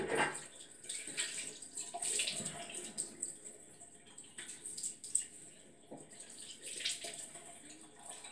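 Tap water runs from a faucet to dampen hair, a soft broadband splash that rises and falls unevenly across the whole stretch, fairly faint and close, with a few brief knocks and no clear talk.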